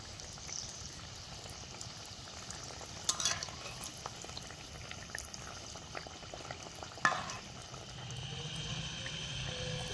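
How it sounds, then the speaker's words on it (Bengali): Veg patties shallow-frying in a pan give a steady, soft sizzle throughout, with a couple of brief clinks or bumps as they are turned. "হালকা ভাজা হয়ে এসছে, এবার আমি এগুলোকে উল্টে পাল্টে ভেজে নেব।"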